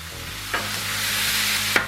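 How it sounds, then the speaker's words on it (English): Velveted beef sizzles loudly on a hot Blackstone griddle, a steady broad hiss with a couple of brief scraping stir accents, no voices. "get our beef on the griddle"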